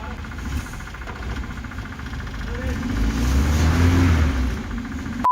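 A car engine revving after repair, starting from a low idle and swelling into a louder, throatier rev toward the end before easing off.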